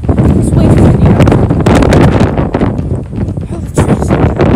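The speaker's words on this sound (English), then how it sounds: "It's way too windy out." Strong gusts of wind from a severe thunderstorm roar and buffet the microphone continuously, loud and close, with brief voices mixed in.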